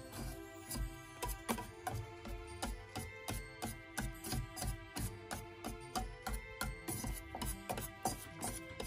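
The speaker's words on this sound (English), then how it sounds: "Whisk it gently in there together till it mixes well." Japanese cheesecake batter is whisked gently in a bowl, making a rapid, regular series of soft clicking strokes that run steadily and fairly quietly throughout.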